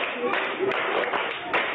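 Steady, evenly spaced hand claps from an audience at a Joy FM Fantastic Four Tour show, bright and near, riding beneath prominent vocals and backing music.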